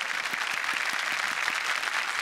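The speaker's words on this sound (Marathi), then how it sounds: "जोरदार टाळ्या." Loud applause rises from a studio audience at a Marathi comedy show, a dense, steady burst of clapping that carries on throughout without a break.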